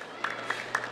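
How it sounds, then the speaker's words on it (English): A few scattered claps from kids applauding at a skatepark land in quick succession, brief and moderately close against a faint outdoor hiss. "They keep applauding for my tricks."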